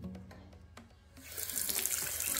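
A bathroom faucet in a countryside agriturismo near Altamura turns on and runs hard, splashing loudly into the sink after a few quieter clicks and knocks.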